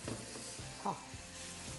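Chutney tipped into a hot oil tempering sizzles and crackles close up. A brief spitting burst is followed by soft, steady frying and a few stirring scrapes.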